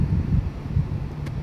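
Low, rumbling wind buffets the microphone on a golf course, a steady gusty roar over the whole short stretch with no voices.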